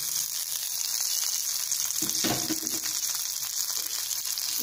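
Green chillies with tamarind, garlic and coriander seeds fry in a pan for coconut chutney, making a soft, steady sizzle close by, with a brief burst of stirring in the middle.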